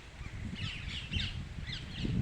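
Parrot calls in a rural village, a few short raspy squawks fairly faint over steady low background rumble.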